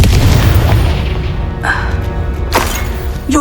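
A Confringo fire spell goes off in Hogwarts Legacy, a loud booming blast with a low rumbling body, followed by a couple of sharper magical bursts over continuous game sound.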